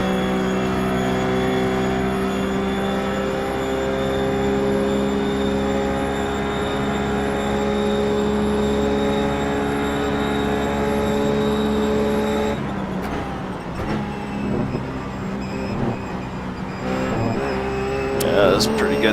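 A Ruf GT3 race car on a lap at Watkins Glen in iRacing, with a steady, loud engine drone holding pitch, then a shift to choppier revving and gear changes toward the end.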